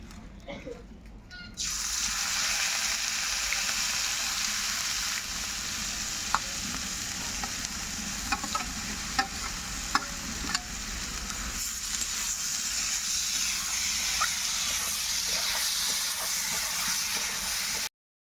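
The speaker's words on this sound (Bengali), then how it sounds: "এখন আমি ভিজিয়ে রাখা আতপ চালকে ভেজে নেবো" Soaked aromatic atap rice fries in white vegetable oil with a loud, continuous sizzle that starts abruptly and holds steady, dotted with light ticks and scrapes as the grains are stirred.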